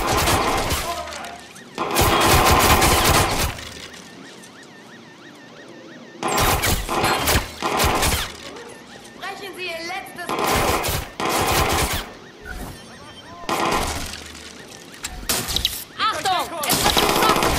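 Bursts of automatic gunfire from the video game Watch Dogs 2 come in repeated loud volleys separated by short lulls, some with crashing impacts, while a player talks between and over the shooting.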